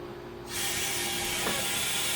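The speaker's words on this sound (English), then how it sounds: "It won't open until that vacuum's released." A sudden rush of air as a Harvest Right freeze dryer's vacuum releases, rising into a steady, loud hiss that continues to the end.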